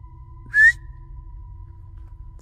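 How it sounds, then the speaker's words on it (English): A single short, rising whistle rings out once at night in the woods, clear against a quiet backdrop with a faint steady hum and a soft rustle at the end. "That was like a whistle."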